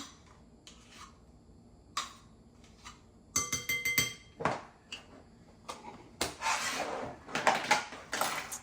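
Dry ingredients of flour, salt and baking powder being stirred together in a bowl for orange cranberry almond biscotti, heard as intermittent clinks and scrapes of utensil against the bowl that grow busier and denser toward the end, with no talking.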